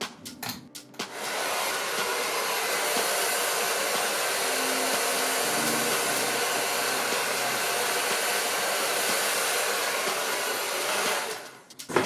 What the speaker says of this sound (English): I'm gonna go in with my round brush and my blow dryer